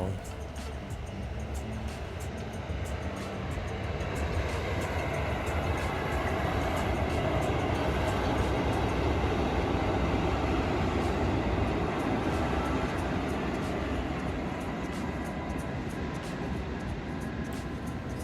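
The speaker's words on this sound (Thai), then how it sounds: "กับขบวนรถนำเที่ยวที่ 975 ทำขบวนโดยฮิฮะ 183" KIHA 183 diesel excursion train no. 975 rumbles past at close range, a loud sustained roar with rhythmic rail clatter that holds steady across the whole pass.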